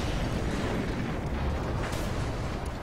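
Continuous thunderous rumbling of a large in-game explosion in Mad Max after an enemy stronghold is blown up, loud and steady with crackling debris throughout and no voices.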